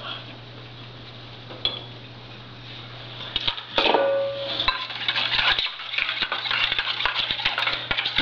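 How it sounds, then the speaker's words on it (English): Metal spoon and utensils clinking against a bowl while yeast and a teaspoon of sugar go in for Martinique butter bread dough, a series of light close clinks and taps over a steady low hum. "I'm going to add the yeast and 1 teaspoon of sugar."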